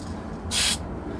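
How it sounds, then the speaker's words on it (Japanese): A can of matte spray fires one short, loud hissing burst directly onto the head of a 1/3-scale Dollfie Dream doll, against faint background hum. "なんでこれ直接吹きつけないかっていうと、直接吹きつけるちょっと例をやってますね。"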